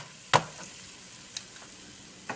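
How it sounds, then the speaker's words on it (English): A roux of fat and flour in a pan gives a sharp burst followed by a soft, low sizzle, with a few faint clicks from stirring. "Once you hear that sizzle, immediately turn heat to a low sizzle, just enough to maintain that gentle sizzling"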